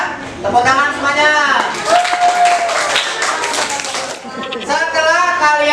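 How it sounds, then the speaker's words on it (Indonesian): Children in a classroom clap together in a brief burst, with a teacher's voice and children's chatter sounding over and around the claps. "Tepuk tangan semuanya."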